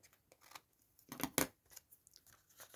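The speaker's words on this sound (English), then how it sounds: "I do want to cut this off a little bit" Scissors snipping craft material close by, a few soft cuts with one louder crisp snip in the middle, faint and intermittent, no talking.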